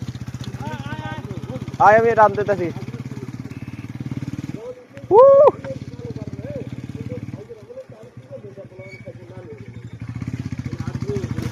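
A motorbike engine runs at night outdoors, a steady idling drone with a couple of louder revving swells, while people talk nearby over it.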